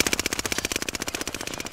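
Rapid automatic gunfire in a video game, a dense stream of evenly spaced shots firing continuously and loudly with no pauses.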